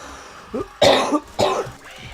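Several close, harsh coughs in a quick cluster from someone sitting at a microphone, with no speech between them.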